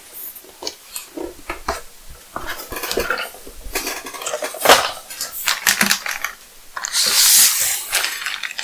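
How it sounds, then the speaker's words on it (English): An MSI B550-A PRO motherboard is unpacked and unwrapped, with close, loud rustling of packaging and plastic, clacks and scrapes as parts are handled, and a long crinkly burst near the end. "we'll unwrap the motherboard"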